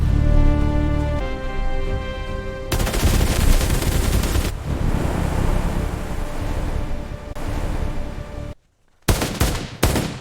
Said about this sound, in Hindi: गोलियों से बचो, पत्थर के पीछे से छुप जाओ।